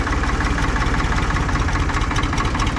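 A combine harvester engine idles slightly low, a steady close rumble with a fast, even low-end throb and no voices.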